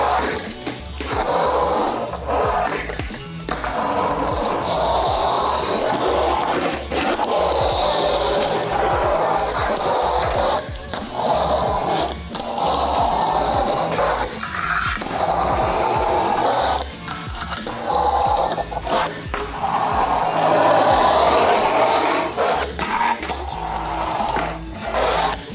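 A loud fingerboard rolling and being skated, giving a continuous close-up rumble of small wheels with rattling scrapes and sharp clacks from tricks.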